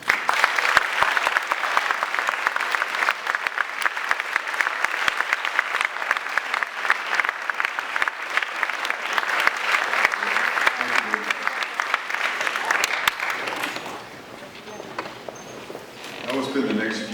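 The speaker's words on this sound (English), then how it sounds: "Let's give them a really, really loud round of applause." A graduation ceremony audience gives a loud, sustained round of applause, dense clapping that fills the room for about thirteen seconds before thinning out, with a voice speaking at the end.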